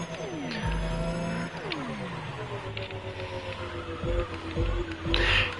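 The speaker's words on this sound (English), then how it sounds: "I don't like the way the car sounds," A car engine in the racing game The Crew Motorfest climbs through repeated rising rev sweeps broken by quick gear-shift drops, giving a thin, buzzy, whining tone at moderate loudness with no voices over it.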